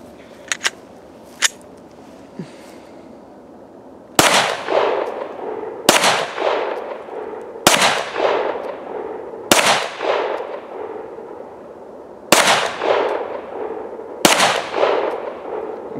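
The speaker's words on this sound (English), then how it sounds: "So we're just going to shoot it with the light for right now." Six loud, sharp gunshots from a handgun fitted with a BALDR Pro light and laser, spaced about two seconds apart, each with a ringing decay, after a few faint clicks at the start.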